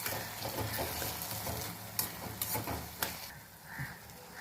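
Leafy spinach greens tipped into a hot frying pan with cooked-down tomatoes, giving a steady broad sizzle with a few sharp bursts and scrapes as they land and are stirred, no voices.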